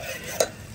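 A tadka tempering fries in a pan over a portable camping gas stove outdoors, giving a soft continuous sizzle broken by one brief clink midway.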